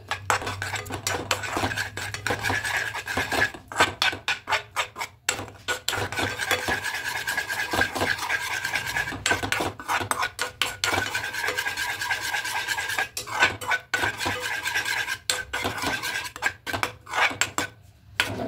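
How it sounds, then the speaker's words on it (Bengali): Sugar for a plum cake melts in a pan as a utensil stirs it continuously, producing a dense, close, rasping scrape that runs on with brief pauses between strokes. "চিনিটা মেল হতে শুরু করে দিয়েছে। এবার অনবরত নাড়তে থাকবো।"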